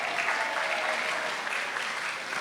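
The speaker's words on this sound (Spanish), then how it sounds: "Un aplauso para la hermana, por favor" An audience claps for a nun arriving at a conference, a loud, steady wash of applause filling the whole short stretch without a break.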